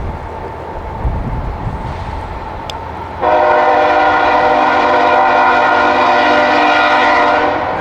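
A Norfolk Southern train roars past about a quarter mile off in light rain, its horn blasting loud and steady from partway through over a low rumble of rail noise.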